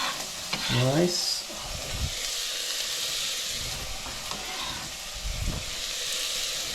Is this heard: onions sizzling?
yes